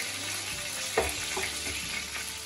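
Chicken pieces for Afghani chicken frying in hot oil, a steady close sizzle with a few stirring clinks and scrapes, no voices.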